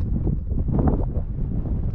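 Steady cold wind buffeting the microphone on Mont Vial, a continuous low rumble and gusting roar with no voices, loud and close throughout.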